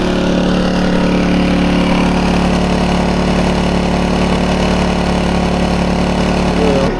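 A portable power generator at a motorhome campsite runs under load, giving a loud, steady, continuous engine drone with a low hum and no break across the whole stretch.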